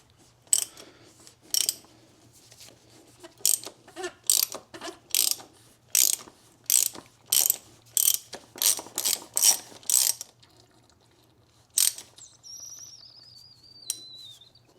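A ratchet turning a 32 mm socket loosens the oil filter on an Audi A6. It gives about a dozen separate bursts of sharp, fast pawl clicking, close up, with a faint chirp near the end.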